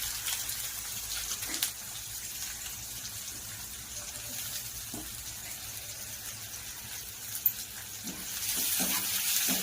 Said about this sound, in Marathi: कांदा पण थोडा डार्क होईपर्यंत आपण फ्राय करून घेऊया